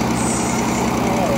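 A 100-year-old sawmill engine runs steadily at close range with a deep, truck-like rumble and continuous low throb, loud throughout.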